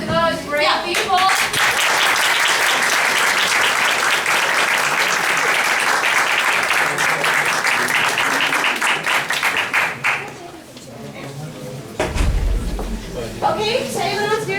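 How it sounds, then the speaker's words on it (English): A classroom audience at a student debate bursts into big, dense applause that carries on for about ten seconds, then fades, followed by a dull thump, with voices speaking at the start and end. "let's give a big applause to those great people."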